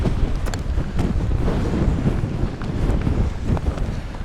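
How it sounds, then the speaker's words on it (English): Strong wind gusts across an exposed Lake District fell between Lord's Seat and Broom Fell, a loud continuous roar buffeting the microphone with low rumble and occasional sharper thumps, no voices. "Gotta be a good test for me tent anyway with this wind"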